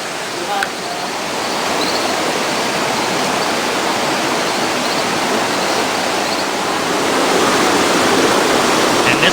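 A waterfall at Embera Drua village in Panama roars steadily at close range, a dense, continuous rush of falling water that holds even and loud throughout with no voices.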